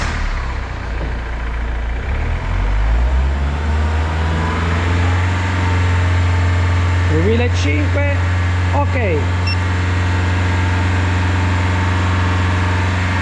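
A car engine is started and settles into a steady low idle during a battery load test with a Kingbolen BM580 tester, running close and continuous while someone speaks briefly.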